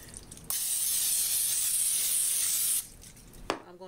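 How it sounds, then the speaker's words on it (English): A single sustained hiss from an aerosol cooking spray onto a glass pan lasts about two seconds, close by, followed by a brief clink. "spray my glass pan with some Pam"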